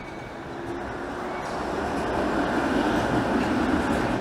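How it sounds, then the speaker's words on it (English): A Toronto streetcar passes along King Street near Roncesvalles, a broad rumbling rail roar that swells steadily over a few seconds amid street noise, heard from a moving scooter. "That streetcar is only going as far as Spadina"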